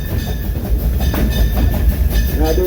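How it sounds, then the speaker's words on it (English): An old passenger train rolls along the tracks with a loud, continuous low rumble and rhythmic clattering, steady throughout. "We're on train. They can't catch us. We're moving."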